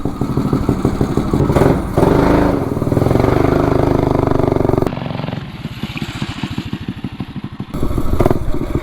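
A minibike engine runs on a dyno test, revving loud and close with a rough, thumping exhaust note that drops to a lower idle partway through before surging again.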